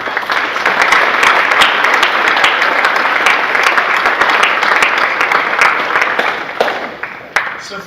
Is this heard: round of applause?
yes